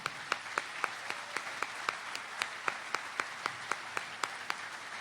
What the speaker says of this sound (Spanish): un aplauso para aquellos compañeros y para estos que están aquí